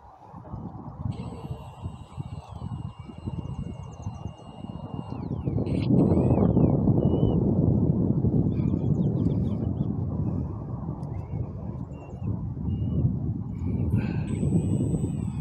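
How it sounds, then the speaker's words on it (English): Wind buffets a Turbo Timber model airplane as it taxis outdoors, a steady broadband rush that swells louder partway through, with a faint high electric motor whine riding over it. "That is actually the wind doing that."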